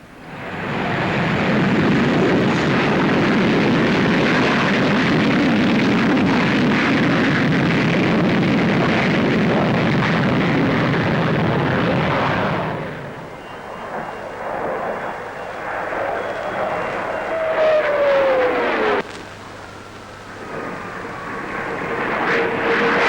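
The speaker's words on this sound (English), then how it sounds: "the Vickers Supermarine 510, an experimental supersonic job" An experimental supersonic Vickers Supermarine 510 jet roars loudly overhead at the Farnborough airshow, a sustained blast that fades out and then returns as a rising, shifting whine.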